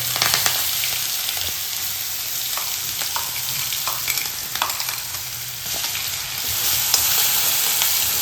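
Ground garlic and green chili paste frying in hot oil with cumin in a pan, giving a loud, close, continuous sizzle with crackling spatters and faint stirring scrapes.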